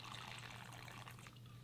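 Light rum is poured into a mojito in a soft, faint trickle of liquid lasting under two seconds, heard alone and close.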